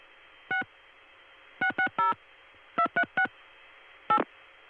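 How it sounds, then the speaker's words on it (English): A touch-tone telephone dials a number: short DTMF beeps come in uneven clusters of one, three, three and one, clear and close over a faint steady line hum. "So I'll be dialing 727-9140 and then continuing to dial 6-660-2368."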